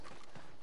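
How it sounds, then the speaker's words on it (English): Horse hooves clip-clop in a brief, steady burst in Red Dead Redemption 2, close and moderately loud with no talking over them. "Tether the horse and I'll meet you across the street."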